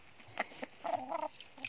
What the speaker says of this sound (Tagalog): Ito naman yung isang manok na pag lumapit ka